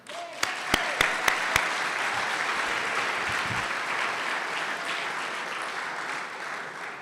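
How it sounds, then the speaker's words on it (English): Applause from an audience at an annual achievement night awards event, several sharp claps at the start giving way to sustained, even clapping throughout. "How about a round of applause for Heather?"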